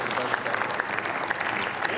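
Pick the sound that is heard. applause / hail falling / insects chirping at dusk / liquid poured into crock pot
applause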